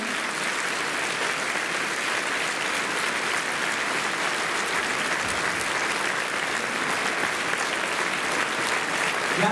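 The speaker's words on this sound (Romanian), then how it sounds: "Să-i aplaudăm pentru că sunt aici în sală." A hall audience at a holiday event gives children a long round of steady applause, dense and even throughout, with no speech over it.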